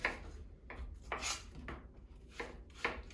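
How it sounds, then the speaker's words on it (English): A knife cuts around apples to remove the cores for a crumble, giving several quiet, close scraping cuts spaced about half a second apart. "go and work around the apple, cutting the core out"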